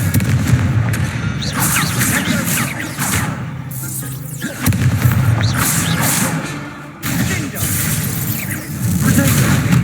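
A fire spell detonates in the Hogwarts Legacy video game, heavy booming blasts and thuds repeating over a dense, loud game soundscape with voices mixed in.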